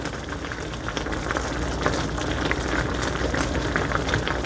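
A pot of thyme, oregano, pepper and cinnamon simmers steadily, giving a continuous close bubbling and sizzling hiss with no talk over it.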